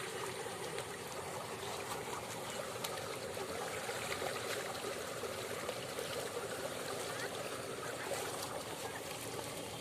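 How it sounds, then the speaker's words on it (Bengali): Fast floodwater rushes through a village after heavy rain, a steady, faint, unbroken stream of flowing water. "জলের স্রোত কত জোরে বয়ে যাচ্ছে দেখেছেন?"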